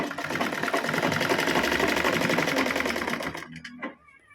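A sewing machine stitches a blouse with a fast, steady mechanical whir and rapid needle clatter, loud and close, before it stops abruptly near the end, leaving a few faint clicks.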